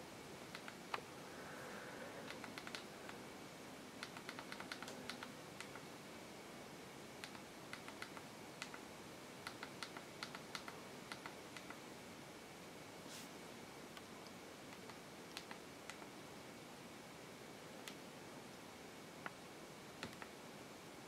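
Light, rapid tapping on the on-screen keyboard of a 4th-generation Amazon Kindle e-reader, irregular key presses clicking one after another close by, with no voices.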